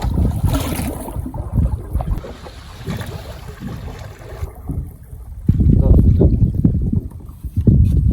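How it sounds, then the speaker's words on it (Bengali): A small boat moves through a marshy wetland at night, with water sloshing, rumbling and wind buffeting the microphone close by, while someone talks throughout. "এই যে দেখেন নৌকা চলতেছে"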